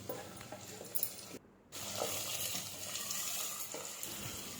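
Chopped tomato added to fried onions for a soya chunk pulao, a loud continuous hissing sizzle with stirring scrapes, briefly dropping out before resuming strongly and steadily, close by with no speech.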